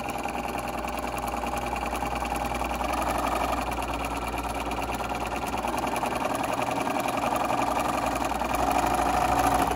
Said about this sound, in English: Now we turn it and we sew down the other side.